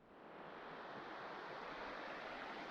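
A farm creek runs full after a recent rainstorm in October, giving a steady close rush of flowing water that holds even and unbroken throughout.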